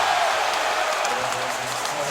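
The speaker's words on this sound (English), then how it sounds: "That's a pretty loud cheer for the Barclays Center when the Knicks score." A crowd at the Barclays Center cheers and roars after a Knicks basket during an NBA game, a sustained broadband wash of noise with scattered claps, steady and loud throughout.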